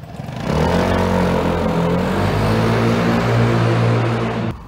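A Vespa GTS 300 scooter starts off on a short ride, its engine buzzing steadily and close with a rising, wavering hum for several seconds before it cuts off abruptly.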